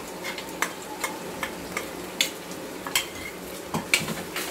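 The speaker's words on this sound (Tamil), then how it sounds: "அந்த மசாலா பேஸ்ட்டை வந்து எண்ணெயில் நல்லா வதக்கி விடுங்க" Masala paste frying in oil in a pan for a Tamil anchovy fish curry, with a steady sizzle broken by sharp clacks of a spoon stirring and tapping the pan, close and fairly quiet, with no talk.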